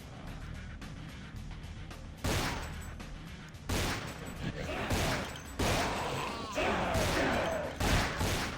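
Gunfire in Vampire: Bloodlines with The Final Nights mod, loud repeated shots and bursts spread through a sewer fight, a few with echoing crashes, no voices.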